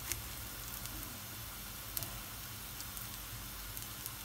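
Kaygana batter of egg, flour and milk frying in a spoonful of oil in a pan, a steady soft sizzle with faint crackling pops throughout, quiet and close.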